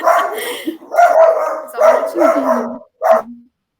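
Several dogs bark in quick bursts, fairly close and loud, with a short final yelp after a brief pause.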